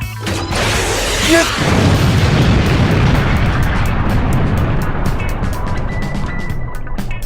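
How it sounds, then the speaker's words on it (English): Missiles firing and exploding in a LEGO Iron Man animation: a sharp launch burst leads into a loud, sustained roaring blast and rumble that slowly thins out. "Jarvis, missiles."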